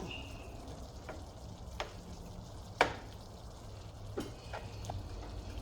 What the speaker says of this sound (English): I have my ground beef over here cooking.